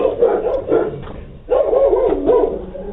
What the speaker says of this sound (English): the dog began barking